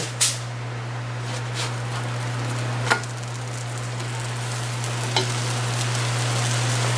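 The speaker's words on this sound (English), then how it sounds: "It is sizzling around the edges though" Soft, steady sizzling of a grilled cheese sandwich frying in a pan, a constant crackling hiss over a low hum with a couple of faint clicks.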